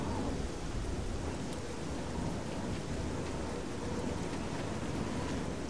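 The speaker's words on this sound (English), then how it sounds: "I don't think I've ever been here where it wasn't raining either" Steady heavy rain with rolling thunder in the video game Oblivion, a dense, continuous broadband downpour at even loudness throughout, with no voices over it.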